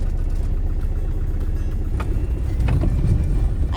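A van driving along a road in Argentina, with a steady low engine rumble and road noise throughout, swelling slightly near the end, no talk.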